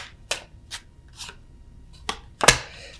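Tarot cards are handled and flipped during a reading, giving a few sharp papery snaps and slides spaced irregularly, close, with the final flip the loudest.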